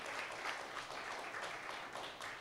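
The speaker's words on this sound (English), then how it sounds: "Let us give a big clap to Father Jacob." An audience at an inaugural jubilee ceremony applauds Father Jacob with steady, dense clapping from many hands, faint and somewhat distant, running continuously throughout.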